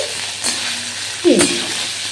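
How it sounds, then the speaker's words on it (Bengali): Ginger, cumin and dried and green chillies frying in hot oil make a steady close sizzle, with a couple of brief stirring scrapes against the pan. "তো ভালো করে আদাটাকে তেলে নেড়ে নিয়ে আদার কাঁচা গন্ধটাকে তাড়িয়ে নিতে হবে"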